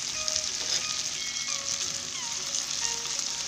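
Potato, pumpkin and pui shak stalks sizzle steadily in a hot frying pan, a continuous close crackle of oil with small pops and light stirring, no voices.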